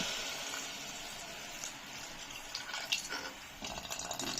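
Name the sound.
water pouring into pot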